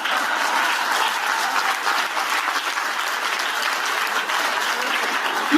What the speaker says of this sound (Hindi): क्यों ताली बजा रहे हो